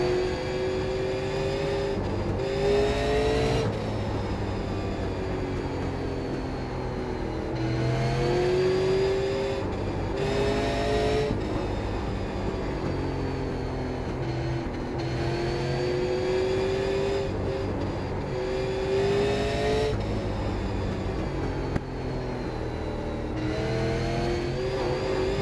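A Super Late Model race car engine in the iRacing game drones loudly and continuously, its pitch climbing and falling in repeated waves as the car accelerates and lifts through corners.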